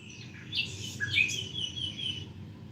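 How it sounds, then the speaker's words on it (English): Birds chirping and tweeting, a busy mix of several high, bright calls at moderate distance over a low steady background, with no talk. "Or you hear something like these birds"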